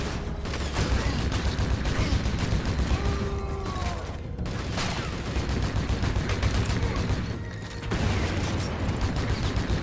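Rifle grenades and gunfire in the video game Project: Snowblind make a dense, continuous barrage of shots and booms, loud and sustained with only a brief dip near the end.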